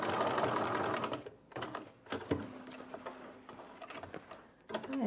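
A sewing machine runs close and steady as it stitches a seam on a bowler bag, then stops and restarts in short bursts with mechanical clicks and a faint hum.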